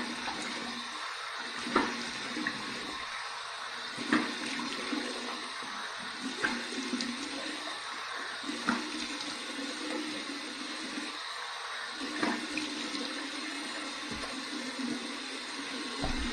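Warm tap water runs steadily for a final rinse after a shave with a Dollar Tree razor, a continuous close splashing flow with small bursts as things pass under the stream, no talking.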